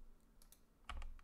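Computer keyboard keys pressed in a short burst of soft, close clicks, a few scattered taps and then a quicker cluster near the end, faint and without talk.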